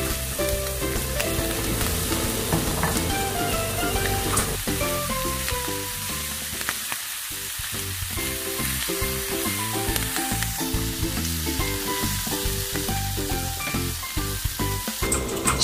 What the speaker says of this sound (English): just add some more spring onion, and we will add our broccoli.